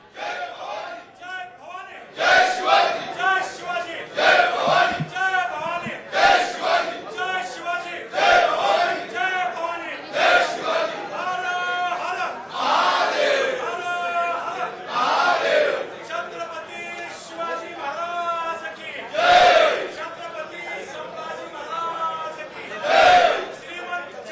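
A crowd of ruling-party supporters chants slogans in celebration on the steps of the Maharashtra legislature, rhythmic bursts of many voices rising and falling, with shouting and cheering close by throughout.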